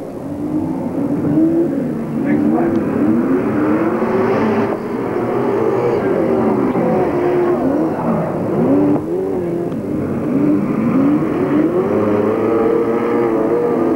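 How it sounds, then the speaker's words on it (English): Little Mazda super sedan race car at Portland Speedway, its engine screaming close and loud at high revs, pitch rising and falling through gear changes as it laps slower cars. "Little Mazda working overtime on the 37 car of Peter Reeves"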